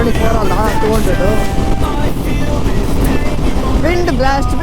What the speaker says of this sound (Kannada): wind blast, wind blast